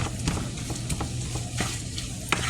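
Pulled pork simmers and sizzles in a pan, giving a steady low bubbling hiss with a few faint clicks and scrapes scattered through it.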